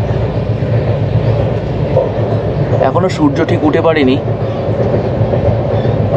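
Passenger train on the Kolkata to New Jalpaiguri route running at about 80 km/h, a steady loud rumble and rattle of the carriage heard from inside, with a person speaking over it.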